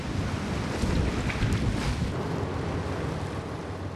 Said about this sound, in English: the waves that are getting rougher are a problem.